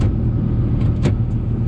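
A road vehicle's engine hums steadily at low pitch while driving slowly up to a farm gate in a snowy setting, close and constant with no voices.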